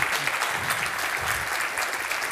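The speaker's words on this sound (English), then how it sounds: "A round of applause." Audience applause at a space-themed event fills the moment, a steady, dense patter of many hands clapping at even loudness for a couple of seconds with no voices.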